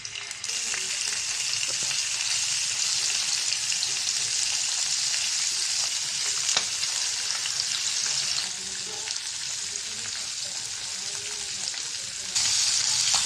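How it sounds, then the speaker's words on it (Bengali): Local shing, koi and magur fish fry in a pan with a loud, continuous close-up sizzle and occasional crackles and scrapes throughout. "বাকি মাছগুলোও বেজে নেব বাকি মাছটা বেজে নেব"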